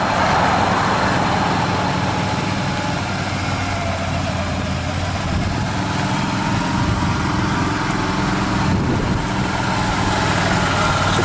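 A 2018 Can-Am Defender XT HD10 cab side-by-side with high mileage idles continuously, a steady, fairly loud low engine drone with an even mechanical chatter and no talk.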